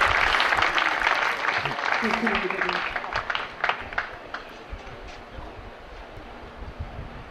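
Tennis crowd cheering and applauding during a Raducanu against Bonaventure match, a loud burst of clapping and shouts that gradually thins into scattered claps, with talk over it.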